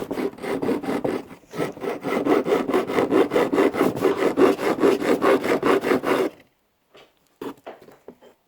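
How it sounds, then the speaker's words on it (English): A metal file rasps back and forth across an old spoon or fork dug up from a dump, with a rapid run of rhythmic strokes before it stops, followed by a few faint scrapes. "we're just going to try and file that"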